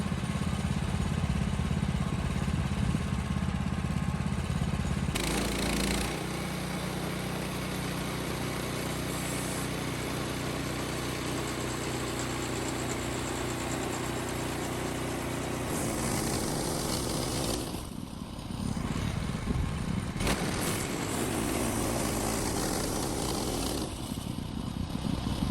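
A sawmill's engine runs steadily outdoors in strong wind while logs are cut, a continuous mid-pitched drone with a couple of brief dips and shifts in load.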